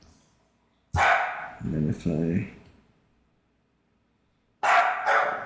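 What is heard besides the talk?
young dog barking in the background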